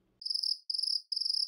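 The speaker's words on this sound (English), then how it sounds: "I can hear the crickets up there" Crickets chirping as a comic sound effect for an awkward silence, three clear, evenly spaced trilling bursts on an otherwise silent background.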